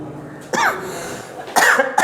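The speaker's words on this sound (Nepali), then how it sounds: "मलाई पनि खोकी भइरहेछ" Three sharp coughs from one person close by, spaced about a second apart.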